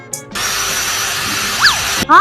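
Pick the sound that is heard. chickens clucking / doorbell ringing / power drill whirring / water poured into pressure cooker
power drill whirring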